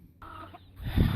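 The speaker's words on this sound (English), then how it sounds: "So let's go see the chickens" Chickens cluck in a short burst on a farm, a soft nearby call rising into louder low clucking at the end.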